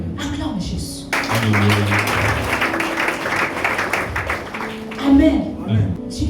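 A church congregation applauding, a dense burst of clapping that swells and holds for several seconds, mixed with voices and low musical tones.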